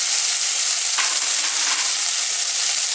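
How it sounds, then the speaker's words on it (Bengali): Steady loud sizzle as Gobindobhog rice goes into spice masala frying in a pan, with a brief stirring scrape near one second and continuous hiss throughout, no voices. "মশলাটা ভালোভাবে কষা হয়ে গেছে। এবার আমি গোবিন্দভোগ চালটা এতে দিয়ে দিলাম।"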